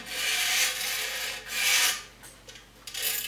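Squash racket string dragged through the frame grommets rasps like sandpaper in close, slow strokes, with three or four rough pulls separated by brief pauses.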